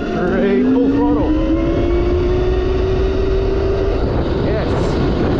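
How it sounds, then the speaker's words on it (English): A fat tire e-bike's electric motor whines up at full throttle in high power mode, rising in pitch over a few seconds and then holding, with heavy wind and road rumble, loud and close. "let's put her into high power mode. One, two, three, full throttle."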